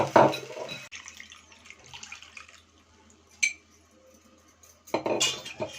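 A ladle stirs a Godavari-style fish curry with tamarind juice in a metal pot, giving scraping clinks against the pot in a few short bursts, near and fairly loud, with quieter stretches between.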